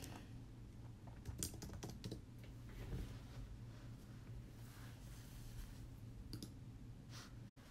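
Someone types a search on a computer keyboard, quick irregular bursts of soft key clicks spread across the stretch, close and fairly quiet, with no talking.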